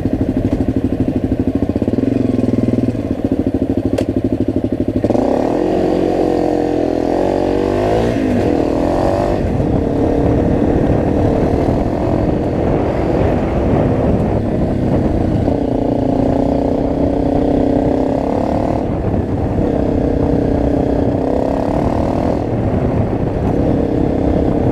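A Honda CRF250L motorcycle rides along muddy off-road lanes in the UK, its engine droning steadily up close with revs rising and falling as it accelerates and slows, and wind noise over everything.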